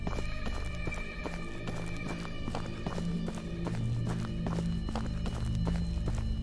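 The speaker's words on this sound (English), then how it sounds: "Was that my own footsteps making the noise?" Rhythmic, clopping footfalls repeat at an even pace at a campsite in a video game, near and steady throughout, with no voices.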